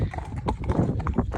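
Hooves of a ridden horse on a hack, clip-clopping in a brisk, uneven rhythm, close and fairly loud.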